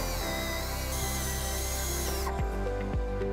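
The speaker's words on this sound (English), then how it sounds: "And we'll use a 2-inch hole saw to cut that hole." A drill with a 2-inch hole saw cuts a hole during a tow harness install on a 2018 Jeep Wrangler JK, a steady close whine that drops off after a couple of seconds and leaves fading mechanical sounds.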